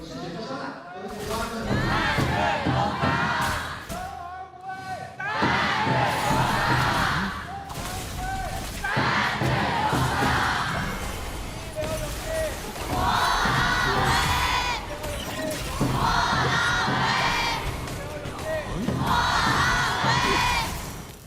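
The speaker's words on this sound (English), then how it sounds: "we will be listening to a bit of the crowd chant on what they have prepared for their team" An arena crowd of esports fans at a KPL grand finals knockout match chanting in loud, rhythmic waves, the massed voices swelling in repeated bursts for around twenty seconds with a brief dip partway through.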